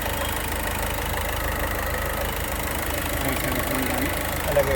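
A 2019 Ford EcoSport Titanium engine idling with the bonnet open, a steady continuous drone heard close up, with a brief faint voice near the end.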